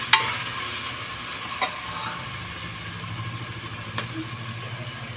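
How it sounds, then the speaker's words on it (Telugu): Chicken marinated with salt, chili and turmeric frying in a pressure cooker: a steady, close sizzle with a few sharp stirring clinks and scrapes over it. "మంచిగా వేగుతుంది."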